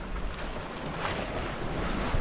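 Ocean swell washes and surges around a moving sailboat in about 10 knots of wind, with gusty wind buffeting the microphone throughout.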